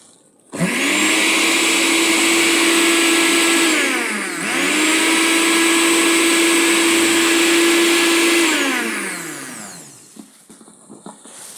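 An Oxone kitchen blender running with fruit inside gives a loud, steady motor whine, close by, that briefly dips and rises again midway before winding down and stopping near the end.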